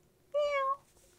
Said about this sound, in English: C-A-T spells cat